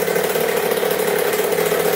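Racing mini two-stroke dirt bike engine idling steadily, a loud, continuous buzzing drone with a rough, even rhythm and no voices.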